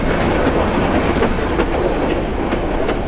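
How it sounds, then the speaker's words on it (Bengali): A Mahua commuter local train slowing as it nears Bhawal railway station, its steady loud rumble and clickety-clack of wheels on the rails filling the ride without pause. "আমাদের ট্রেন স্লো হয়ে যাচ্ছে"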